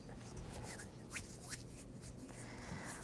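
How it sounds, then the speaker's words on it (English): Tarot cards being shuffled by hand at close range, a faint series of soft riffling flicks and slides in a quiet room, with no voices. "All that shuffling."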